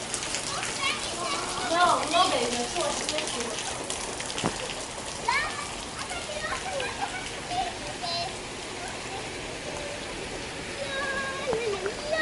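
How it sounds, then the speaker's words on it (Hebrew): Rain falls during a Miami monsoon as a continuous soft hiss, while children shout and play nearby, their voices rising over the patter throughout. "מתחיל לרדת גם פעם גשם"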